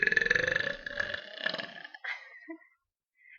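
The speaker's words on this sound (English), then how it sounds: "Burp. Just burp." A woman lets out a long, loud, guttural burp close to the microphone, rumbling and wavering for about two seconds before trailing off into short fading sounds.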